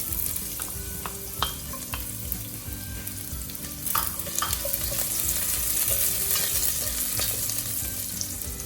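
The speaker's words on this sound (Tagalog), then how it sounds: "Pag mainit na, isunod na natin ang 8 cloves of garlic." Eight cloves of garlic fry in about a tablespoon of hot oil for squid adobo, a steady close sizzle broken by stirring clatter and occasional sharp pops.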